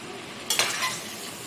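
Large pieces of chicken being mixed in a pot for ghee dum biryani: a single brief scrape of stirring over a soft, steady sizzle nearby.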